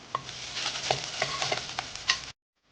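Ginger, garlic and curry leaves frying in a pan, a bright crackling sizzle with scattered pops and spoon scrapes that cuts off abruptly near the end.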